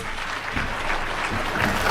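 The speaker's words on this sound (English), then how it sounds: "Let's give her another round of applause." An audience at an International Women's Day event applauds, a steady wash of clapping that swells slightly toward the end.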